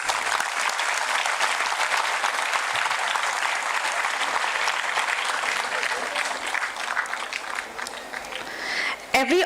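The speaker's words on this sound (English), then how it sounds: "Let us welcome them with a very big round of applause." Loud, sustained audience applause welcoming the chief guests at the Pharma Anveshan 2026 event in India, dense clapping filling the room steadily and tapering slightly near the end, with a brief bump of noise at the close.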